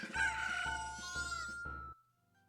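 Chickens in a Super Mario 64 and Majora's Mask randomizer game let out a short synthesized clucking and crowing call with a few pulsed repeats. It is clear and up close, then cuts off into near silence.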